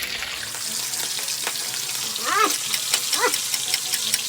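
Garlic fries in a small amount of oil, giving a continuous bright sizzle and hiss. A few sharper crackles and faint chirping sounds rise briefly over it.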